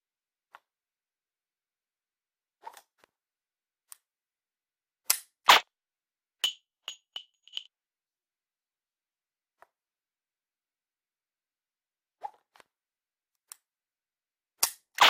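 Sharp, isolated mechanical clicks from a pistol dry-firing during laser training, sparse and irregular, some close together in a quick cluster, heard alone in a quiet room.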